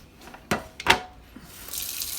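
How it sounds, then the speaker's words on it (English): Tap water gushes into a crock pot in bursts, loud splashing and running water close up, no talk. "we're going to fill it up with water"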